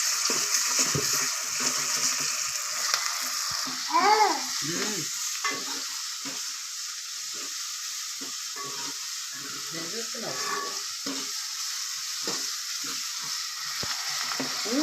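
Onions fried until reddish sizzle in a pan as ginger paste is stirred in for Telangana-style boti curry, a steady close hiss with repeated spatula scrapes.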